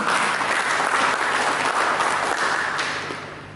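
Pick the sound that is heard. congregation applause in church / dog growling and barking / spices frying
congregation applause in church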